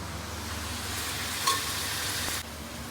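Onion, tomato and garam masala fry in a pan for mutton curry, giving a steady close-up sizzle with a brief louder crackle midway. No one speaks.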